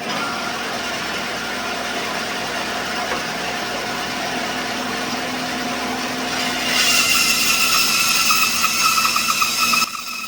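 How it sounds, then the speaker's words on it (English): Bandsaw running with a poor-quality blade while making a pie-crust table leg, a steady mechanical whir that grows louder and harsher partway through, then drops back near the end. "this isn't a great bandsaw blade in my bandsaw, so we're going to just run it"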